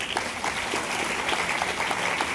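Steady applause from a crowd at a student award ceremony, dense clapping that holds at an even level throughout.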